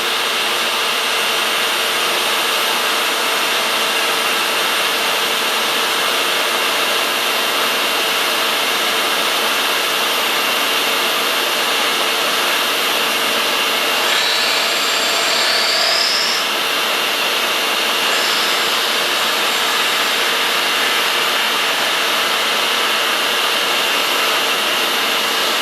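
A milling machine spindle runs steadily at about 2,000 RPM during a boring bar build, a constant high-pitched whine and hum with a brief higher squeal partway through, with no talk.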